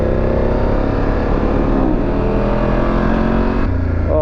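A car engine at full throttle accelerates out of a mountain hairpin on a wet road, a loud, steady close-up roar with a rising engine note and a brief shift near the end.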